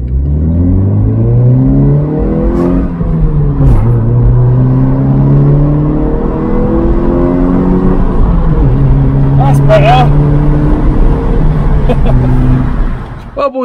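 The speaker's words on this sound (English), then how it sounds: "We're just going for a little rip," Honda CR-Z fitted with an HKS Racing Suction intake kit revs repeatedly through rising and falling engine sweeps, loud and close, with gear changes breaking the climbs and a brief squeal near the end.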